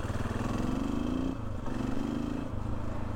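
Yamaha XT 600 single-cylinder motorcycle from 1992 fitted with a LeoVince X3 exhaust, idling or running at low revs with a steady, fairly faint thrum and a slight pitch dip midway.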